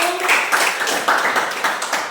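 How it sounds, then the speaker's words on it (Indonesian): A classroom audience claps briefly, a scattered patter of hands at moderate distance with some faint voices mixed in. "Kita tepuk tangan dulu"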